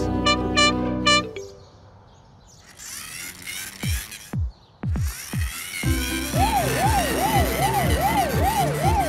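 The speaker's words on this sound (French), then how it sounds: "Le camion de pompiers est là pour éteindre le feu." A cartoonish fire engine in a children's animated cartoon honks a few times, then a wailing siren rises and falls repeatedly, with bright synthetic effects before it; no speech.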